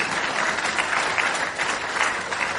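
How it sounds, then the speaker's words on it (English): Steady applause from a convention audience in London fills the room, dense even clapping at a constant loud level with no voices over it. "I do want a fucking round of applause for that one"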